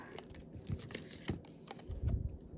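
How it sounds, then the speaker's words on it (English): Scissors snip paper strips for a handmade card, giving several quick close crisp cuts and rustles in an irregular run, with no talking. "let me just cut these off"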